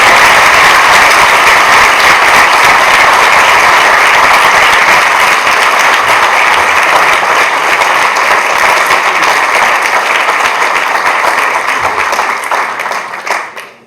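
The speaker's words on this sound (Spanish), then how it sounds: "vamos a recibir, por favor, se los pido de favor, un grandísimo aplauso a Toño Martorell." An audience at a lecture applauds with loud, dense, sustained clapping that fades out at the end.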